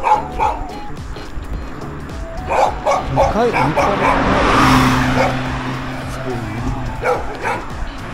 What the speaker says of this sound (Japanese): 絶対っていうほどここ犬が吠えられるよね。